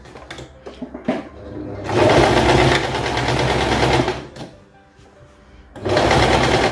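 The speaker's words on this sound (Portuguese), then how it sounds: "E agora nós vamos passar essa parte aqui na máquina." A sewing machine runs while stitching a tube dress, with a few short stop-start bursts first, then a long steady whirring run that pauses and starts again near the end, heard up close with no talking.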